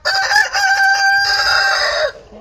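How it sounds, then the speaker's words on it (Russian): A rooster at a petting zoo farm gives one loud, close crow, a drawn-out rising and falling call lasting about two seconds before cutting off. "Кукареку. Он тебя так приветствует, да?"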